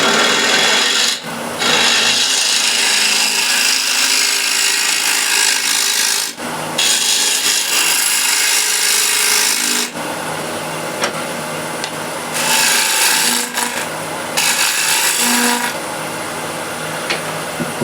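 A spindle gouge cuts into a spinning wooden plate, about 11 inches across, on a wood lathe. Loud, close, rasping scraping runs almost nonstop, broken by brief pauses and changes in tone as the tool moves across the wood.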